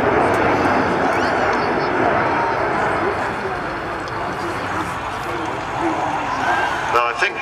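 A jet aircraft with a tail hook for carrier landings flies at the Sanicole Airshow 2009 in Belgium. It makes a loud, steady roar that swells slightly near the end, under continuous commentary.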